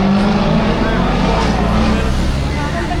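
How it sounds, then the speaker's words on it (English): A 5-liter naturally aspirated V8 car engine rumbles close by on a city street in BGC Manila, a loud, deep, steady throb filling the background while people talk. "that's a 5-liter naturally aspirated V8"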